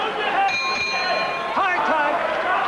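A boxing round bell rings out over crowd noise during Julio Cesar Chavez vs Andy Holligan, a sustained metallic clang lasting over a second amid steady arena chatter.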